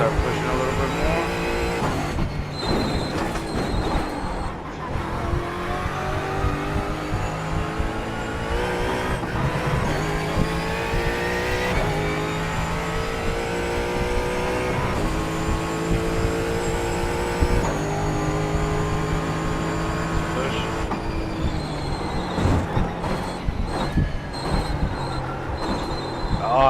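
A sim race car in iRacing screams through repeated acceleration runs and downshifts, engine pitch climbing and falling in steady cycles, loud and close, with brief tire squeal and occasional talking from a driver.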